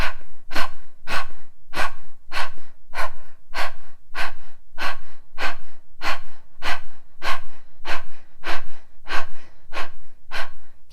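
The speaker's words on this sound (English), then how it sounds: "Breath of fire." Breath of fire breathing exercise: about twenty rapid, forceful nasal exhales in an even rhythm, close and loud, each a sharp puff of air with no talking.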